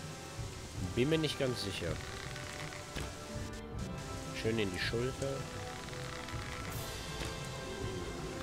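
Steady rain falls in the video game Gothic 3, a soft continuous patter that runs throughout beneath someone talking.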